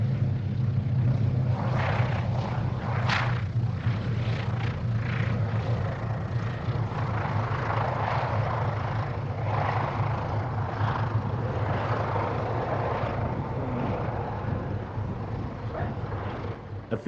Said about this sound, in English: This Douglas DC-4, a pioneer of international air travel, is owned by the Dutch Dakota Association and is bringing a group of Dutch fans to the